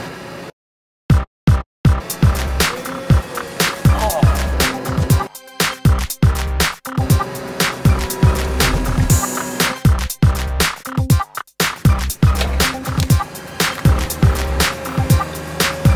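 An 8,000-pound forklift rolls over USB flash drives, giving repeated sharp cracks and crunches over a steady low engine rumble, with brief silent gaps between passes.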